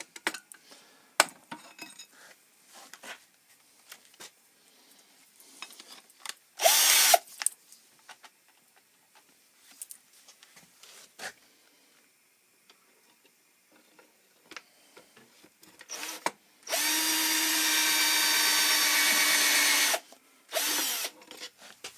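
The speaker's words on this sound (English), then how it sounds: "And there's the point where we want to drill it right there." A power drill whirs in a few short bursts while machining a wad guide for a Hornady/Pacific 366 shotgun shell reloader, then runs steadily for a few seconds, with clicks and handling noises of tools in between.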